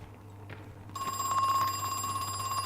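A spooky telephone rings in a puzzle video game, its steady electronic bell tone starting about a second in and sounding continuously, loud and close, with no talk over it.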